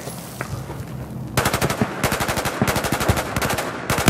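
Battlefield 4 gunfire in the Baku mission: after a quieter opening, loud rapid bursts of automatic weapon fire repeat in close succession, crackling and dense, with no voices.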